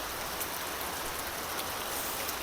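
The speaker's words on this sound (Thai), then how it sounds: "ฝนมาพี่น้องเลย" Steady rain pours down outdoors, a dense, even hiss of falling water close by that lasts a couple of seconds with no voices.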